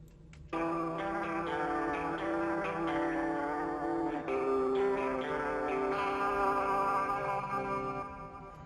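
A looped electric guitar phrase is played back through a Valhalla Delay lo-fi looper setting after many repeats, sounding as sustained layered tones that start abruptly, hold steadily with slight dropouts, then fade near the end.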